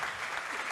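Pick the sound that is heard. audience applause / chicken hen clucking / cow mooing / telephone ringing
audience applause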